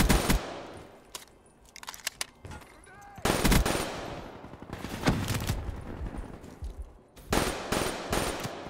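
Loud automatic gunfire from a gun in the PC shooter The Division comes in several sharp bursts separated by quieter gaps, with game sounds underneath.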